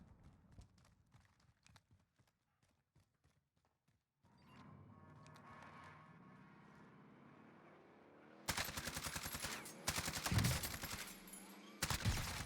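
Gunfire in a shooter video game: a sparse run of soft taps gives way to a steady hum, then loud dense bursts of rapid automatic fire near the end.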